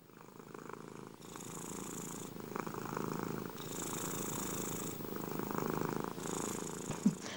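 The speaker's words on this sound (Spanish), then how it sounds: "Escuchar el ronroneo del gatico que vive con nosotros" A house cat purrs close by in a steady, soft rumbling rhythm of alternating breaths, fairly quiet and alone, ending with a brief small knock.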